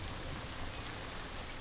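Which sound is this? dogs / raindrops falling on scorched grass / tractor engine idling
raindrops falling on scorched grass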